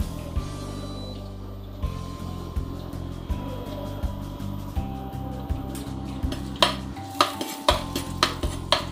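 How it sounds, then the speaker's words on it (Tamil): Ginger frying in oil in a pan for egg manchurian, with a low steady background hum and repeated clinks and scrapes of a utensil against the pan that grow louder toward the end. "இஞ்சி ஃப்ரை ஆகிட்டு இருக்குதுங்க."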